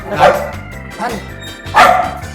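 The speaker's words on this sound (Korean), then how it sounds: "멍멍이가 짖고 있습니다" A dog barks in short bursts, three loud yaps spaced about a second apart, close by. It sounds during an interview about animal rescue, with background noise from the room.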